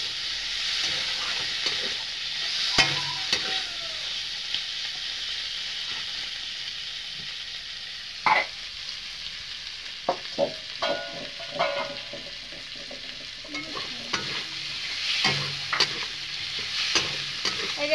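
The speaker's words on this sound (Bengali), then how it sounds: "এখানে আমি গগলিটা দিয়ে নেব। হলো 5-10 মিনিট নাড়াচাড়া আমি করে নেব" Snails caught from a canal sizzle steadily in a hot pan while a utensil stirs them, sharp scraping knocks breaking through the continuous frying hiss at close range; no one speaks.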